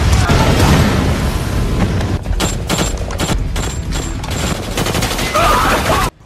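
Gunfire in a Tony Jaa action film: a dense, loud fusillade of shots and booms running almost continuously, with sharp bursts cutting through a thick, rumbling action-movie mix.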